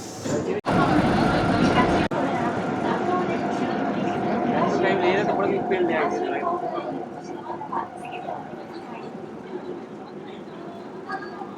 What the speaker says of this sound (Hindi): अभी हम मेट्रो के अंदर हैं, काफ़ी फास्ट है मेट्रो।